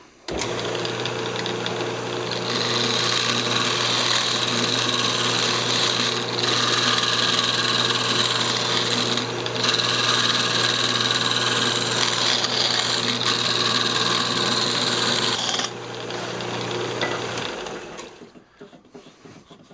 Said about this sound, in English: Now I'm just going to use a round nose scraper to clean it all up